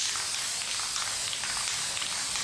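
Aerosol clear coat sprayed onto paintings indoors, a steady close hiss that runs unbroken for a couple of seconds with no talking.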